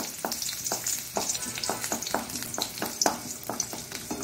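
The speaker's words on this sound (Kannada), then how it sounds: "ಎಣ್ಣೆ ಬಿಸಿ ಆಗ್ತಾ ಇರುವಾಗ ಮೊದಲಿಗೆ ಬೆಳ್ಳುಳ್ಳಿಯನ್ನು ಹಾಕೊಳ್ಳೋಣ. ಬೆಳ್ಳುಳ್ಳಿ ಸ್ವಲ್ಪ ಅದರಲ್ಲಿ ಫ್ರೈ ಆಗಬೇಕು." Garlic fries in hot oil in a pan, a strong, bright sizzle with repeated quick scrapes and clinks of stirring spread over several seconds, close and clear with no speech.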